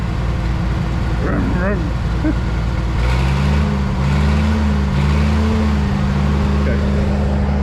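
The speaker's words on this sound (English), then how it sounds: "I just like the sounds of a good running tractor." A Minneapolis Moline RTI tractor engine with a mower runs steadily with a low rumbling idle that deepens and grows louder partway through; a voice is briefly heard early on.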